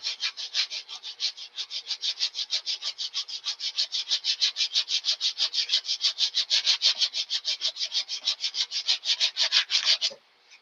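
Hand sanding of a wood piece toward a marked line, a steady fast back-and-forth rasping rhythm of even strokes, close and alone, stopping near the end.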